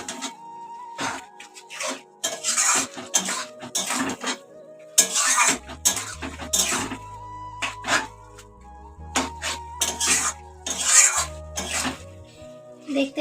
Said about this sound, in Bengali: সর্ষে বাটাটাকে শাকের মধ্যে খুব ভালো করে মিশিয়ে নেবো, নিয়ে 5 মিনিট কষতে থাকবো।